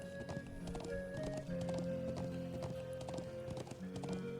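A horse gallops in the game Trails of Cold Steel, with a fast, continuous clip-clop of hooves and occasional whinnies over steady background music.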